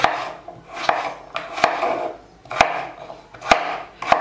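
A knife chops tomatoes and potatoes into cubes on a cutting board, giving irregular, loud, close thuds with soft slicing between them and no voices.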